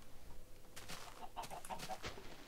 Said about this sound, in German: Hier ist ein Huhn.